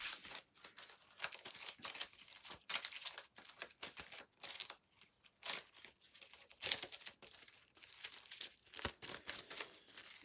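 Playing cards are shuffled and handled during a Four Against Darkness tabletop session, giving quiet, irregular bursts of riffling, flicking and crinkling that stop and start across the whole stretch, with no talk.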